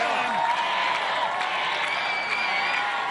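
Large studio crowd at an American Ninja Warrior course cheering and chanting as a competitor starts the doorknob drop obstacle, a sustained, dense roar of voices and applause with no break.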